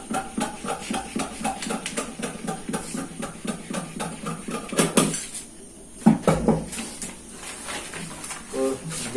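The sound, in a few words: cutting blouse fabric along the drawn line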